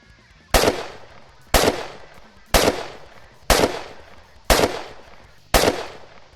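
Six loud gunshots fire at a steady pace, about one per second, each a sharp crack with a short echoing tail, no talk between them.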